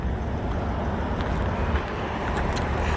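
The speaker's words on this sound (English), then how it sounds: "Listen to that inline six" The inline six engine of a 1997 Volvo V90 wagon running, a steady low drone with road and wind noise, even and continuous, with no talk.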